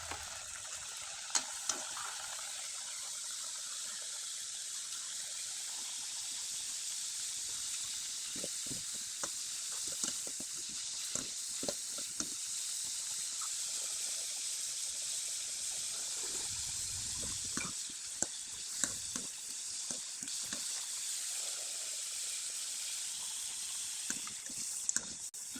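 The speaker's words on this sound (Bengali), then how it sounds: "একইভাবে আরেকবার ভেজে দেখিয়ে দিচ্ছি" Traditional Bengali chikan pitha rice cakes deep-fry in hot oil, giving a long, even bubbling sizzle with occasional pops and light stirring, close and unbroken throughout.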